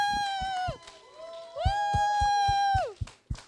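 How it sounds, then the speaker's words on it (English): An audience at a Heart of Texas Comic Con 2015 panel claps in sparse, evenly spaced beats while a voice lets out long, drawn-out whoops over the top of them. "I see your polite claps."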